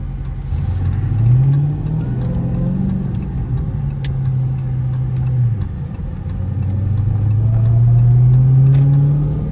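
A 2022 Dodge Challenger Hellcat Redeye on bald tires in eco mode makes a close, loud engine pull, its tone climbing in repeated rising sweeps between gear changes over a constant road roar.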